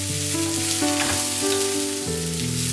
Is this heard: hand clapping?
no